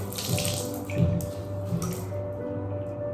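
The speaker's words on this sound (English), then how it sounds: "And then I'm squeezing out all the excess water" Water drips and splashes close by as a wet cloth is squeezed, a few trickling spurts fading into quiet.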